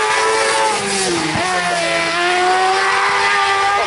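Race car at an asphalt sprint event screaming at around 14,000 rpm on soft, coarse-tread tyres, a loud, sustained high-pitched engine wail with a brief dip and recovery, no talk over it.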